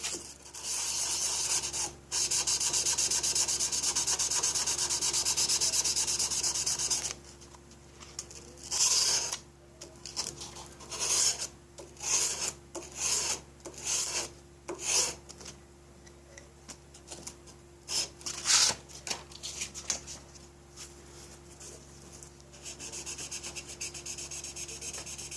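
A chisel is sharpened on 600-grit abrasive, first with several seconds of continuous close rubbing, then with a run of short, irregular scraping strokes separated by brief pauses.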